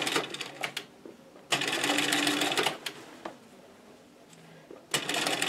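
A sewing machine top-stitching ruffles onto a fabric table runner runs in two or three fast bursts of steady mechanical whirring, with quiet pauses and small clicks between them.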